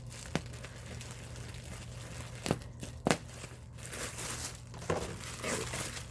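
A plastic bag crinkles close up as scissors cut it open, with a few sharp snips and rustles spaced irregularly against a low steady hum.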